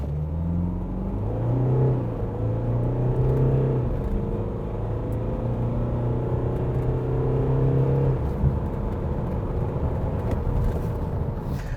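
A Nissan Navara Pro-4X ute accelerating hard, its engine rising steadily through the gears with a loud droning tone, a brief shift dip partway through, then a final gear change and a continued strong rumble.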